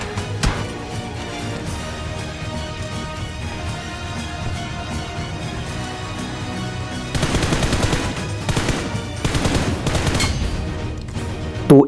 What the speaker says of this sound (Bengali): পিছন সাইড থেকে একটা এনিমি না ফায়ার দিতেছিল